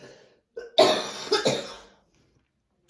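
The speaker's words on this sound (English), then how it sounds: "I do apologise for coughing." A person with a tickly throat coughs two or three times in a quick, close burst, then falls silent.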